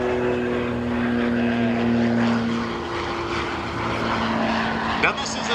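A Bullard TTP-38, a two-thirds scale P-38 Lightning twin-engine replica, rolls for takeoff at an airshow, its propeller engines droning loud and steady with a faint engine tone, an announcer's voice audible over the roar.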